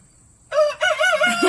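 Rooster Freddie at an animal sanctuary lets out one loud, close crow in a few rising and falling segments after a brief quiet moment.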